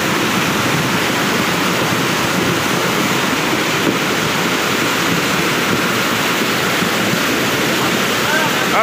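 Floodwater rushing after heavy rain and a landslide in Majua, Sikkim, a loud, steady roar of churning water with no break, close and dense, with a faint hint of voices beneath.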